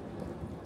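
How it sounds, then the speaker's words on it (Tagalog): Heavy rain falls in Jeju City in September as a dense, steady roar with no breaks, broadband and fairly loud, and no voices. "Ang lakas ng ulan"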